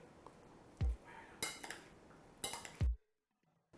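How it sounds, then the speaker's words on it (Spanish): A utensil stirs tuna ceviche dressed with Kikkoman soy sauce in a dish, making a few scattered clinks and scrapes against the bowl over a quiet background. "Entonces una vez que le echamos la salsa Kikkoman, la vamos a revolver"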